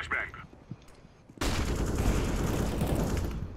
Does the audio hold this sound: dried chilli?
no